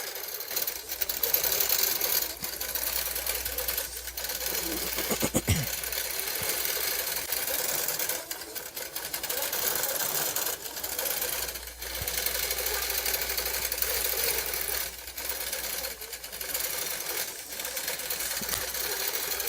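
A computerized quilting sewing machine stitches out a pattern from start to finish, a loud, steady, close mechanical whir with rapid needle pulsing and brief dips as it shifts direction, running continuously without voices.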